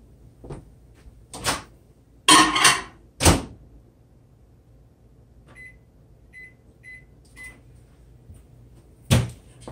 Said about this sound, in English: I'm going to pop these in the microwave right quick